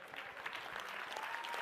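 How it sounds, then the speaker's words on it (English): Audience at a leadership talk clapping briefly, a soft, distant, even patter of many hands with no pauses. "Clap now, quick."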